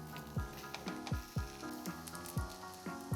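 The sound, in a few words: spam slices sizzling in a hot pan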